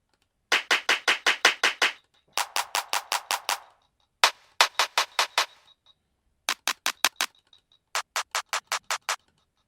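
Trap drum kit clap samples play in short bursts of rapid, crisp, dry claps, five groups of about six to eight hits separated by brief pauses, close and alone.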